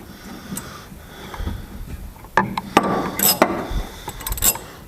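A cheap ratchet works on a carburetor, with a quiet start giving way to scattered sharp metallic clicks and clinks in uneven clusters, close by, over faint background noise.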